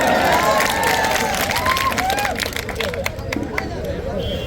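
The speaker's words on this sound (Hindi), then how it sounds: "भाई बहन को प्यारे जोरदार तालियां लगाइए" A crowd at a Congress political rally in Shravasti breaks into loud applause and cheering, clapping mixed with shouts and crowd noise while a voice carries over the top.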